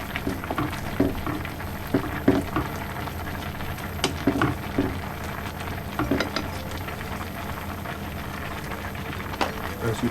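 Tomato sauce with meatballs heating in a pan for Swedish meatballs, a low steady bubbling and sizzling bed with scattered soft pops and spoon clinks, fairly quiet and continuous.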